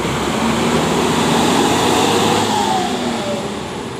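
A bus in Sumatra pulls away after emptying its passengers, its engine giving a loud, steady drone that builds gently and then holds, heard close with no voices over it.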